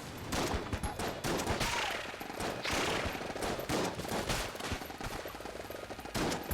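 Rapid gunfire from weapons in the video game Enter the Gungeon: dense, continuous bursts of shots and impacts that keep up without a break and with no voice over them.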